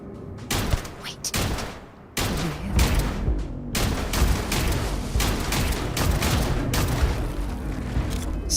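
Repeated gunshots from a non-automatic weapon in the space game Starfield, loud separate shots that fall close together with a brief lull early on, then continuing fire, and a voice talks briefly at the start.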